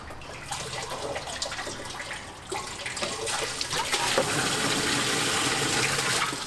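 Water drains out of an aquarium tank as it is removed, a steady splashing, gurgling rush that grows louder and fuller after the first few seconds and continues to the end, with no talking.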